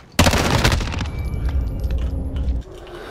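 Rapid automatic gunfire from a weapon in Modern Warfare, a loud sustained burst of closely spaced shots starting abruptly and running for over two seconds before cutting off.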